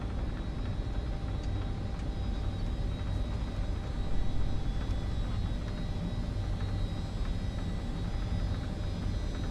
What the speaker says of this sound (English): we're going to do the takeoff